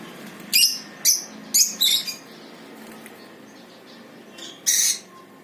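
Caged pet birds in a covered winter setup give short high chirps, about five quick bursts spaced irregularly over low background noise, close and clear, with faint rustling between calls.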